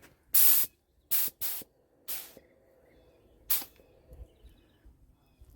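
Garden hose fed from a 1/2-inch, 84-foot wall-mounted hose reel sprays water under strong pressure in several loud, separate hissing bursts, each under a second long, with quiet gaps between them.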